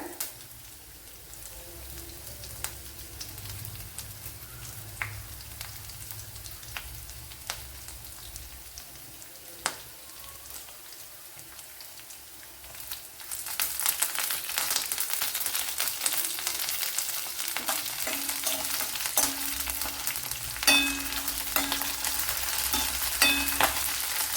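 Chopped garlic and curry leaves sizzle in a Kerala-style curry with payar and cauliflower. A soft crackle with scattered ticks swells into a louder, dense, rain-like sizzle halfway through.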